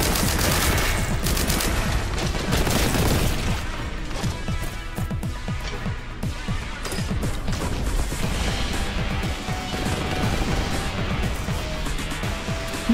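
Grenade explosions and rapid gunfire in the Warhammer 40k Boltgun shooter game, a dense, loud, continuous barrage of shots and blasts with repeated sharp bursts.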